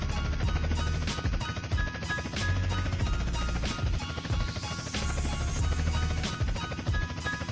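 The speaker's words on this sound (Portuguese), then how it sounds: "A hélice do helicóptero..." Helicopter rotor in the video game GTA San Andreas, a steady low chopping drone that continues loud and unbroken, with some game ambience layered over it.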